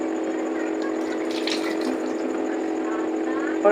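Peeled onion rinsed under running tap water, a steady continuous flow with a brief louder splash midway, close by and alone with no talking.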